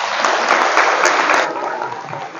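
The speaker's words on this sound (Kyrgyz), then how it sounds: "Ошого бир кол чаап коелучу." Audience at a school event in Osh clapping together in a dense, steady burst of applause that is close and loud, thinning slightly toward the end.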